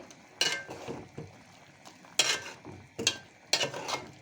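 Small kachki fish curry being stirred in a pan, with several distinct scraping strokes of a spoon against the metal over a soft sizzle, close and fairly quiet, with brief pauses between strokes.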